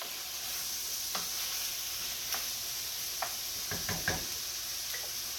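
A stuffed zucchini mixture cooks in a pan with a soft, steady sizzle. A few light knocks and taps of a utensil sound against the pan. No one talks.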